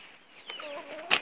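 Hens cluck softly nearby, a few brief rising and falling calls ending in one louder squawk, with no voices over them.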